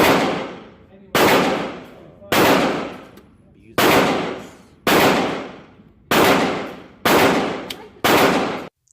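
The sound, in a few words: gunshots at a shooting range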